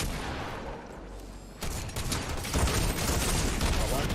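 Gunfire crackles in a shooter video game, dense bursts of shots that grow louder partway through, with a faint voice nearby.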